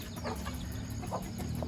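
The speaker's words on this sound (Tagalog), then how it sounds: "May mga manok pa." Several chickens cluck in short, scattered bursts over a steady background hum, close by and moderately loud.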